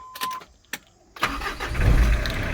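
A four-wheel-drive car with a Thai-market pickup setup: a few warning beeps and clicks, then the engine cranks and catches at once, settling into a steady low idle close by.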